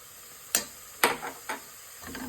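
Ground spice masala for goat liver biryani stirred in a hot pan, four distinct scraping strokes spaced about half a second apart over a steady low sizzle, close and moderately quiet.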